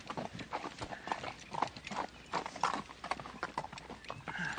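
Horse hooves clip-clop in a Western TV scene set in Kansas, a steady rhythmic series of hoof strikes at moderate distance, with a faint murmur of voices beneath.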